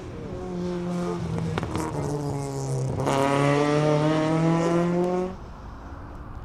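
Race car engines at a hill climb event work through a corner, with a loud, buzzing, harmonic-rich engine note that climbs and swells midway, holds, then drops away sharply near the end.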